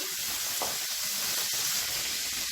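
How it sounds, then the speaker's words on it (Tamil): Shallots and a medium tomato sauté in a pan for a chutney, giving off a steady close hiss and sizzle with faint occasional scraping. "இதில் மீடியம் சைஸாக ஒரு தக்காளி சேர்த்து நல்லா வதக்கிக்கலாம்"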